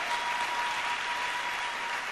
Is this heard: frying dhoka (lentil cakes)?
no